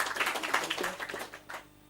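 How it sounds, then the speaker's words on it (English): A live audience at a Kinect hacking talk claps and applauds in a brief, dense burst, close and steady before tapering off. "Everyone give an applaud."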